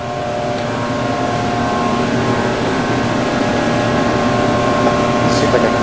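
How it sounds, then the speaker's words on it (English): Aerzen positive-displacement blowers run in the digester blower room of a water treatment plant, giving a loud, steady machinery drone with tonal hum throughout, unbroken and close. "So here's the digester room, or digester blower room."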